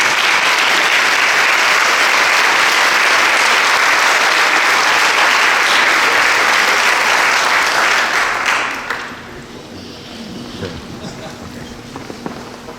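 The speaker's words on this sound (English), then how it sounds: "Please give her a York round of applause." Dense, loud audience applause fills a leadership roundtable hall for about eight seconds, then drops sharply to scattered claps and murmuring room noise.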